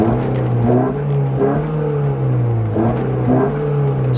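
A 2009 Nissan Cube engine with a cold air intake and J2 stainless cat-back exhaust revs inside the cabin, a steady hum that swells in several repeated rises and falls, loud and close, with no talking.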